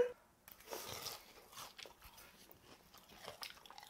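Crunchy chewing of deep-fried small fish caught in winter from a stream, several close irregular bites and crackles in quick succession, fairly quiet with no talk over it.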